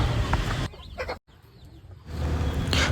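Country chickens clucking nearby, with soft rhythmic clucks and short calls heard against outdoor background noise.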